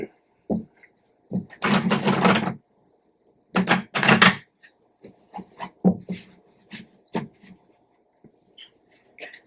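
Tarot cards being shuffled by hand, with two long riffling bursts followed by scattered soft taps and slides of the deck, close and fairly loud in an otherwise quiet room.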